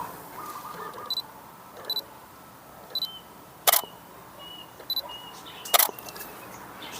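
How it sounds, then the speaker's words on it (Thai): Camera shutter and focus beeps taking photos of Bordissot Rossa fig fruit: about six separate clicks spread evenly, each with a short electronic chirp, two sharper clacks standing out, over quiet outdoor ambience. "นี่ก็ถ่ายรูปเก็บไว้ เวลานั้น จะได้มีอ้างอิงในการขายกิ่ง"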